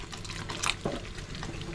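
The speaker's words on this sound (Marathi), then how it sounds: "थोडं टाकलंय पाणी, आता मीठ टाकते." A small splash of water poured into a pan of fenugreek gravy, a brief wet gush in the middle of quiet kitchen sound, close and alone.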